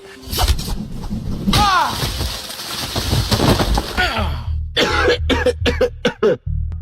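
Strained vocal sounds give way to a run of loud, harsh coughs in quick bursts, close and rough, with brief gaps between them.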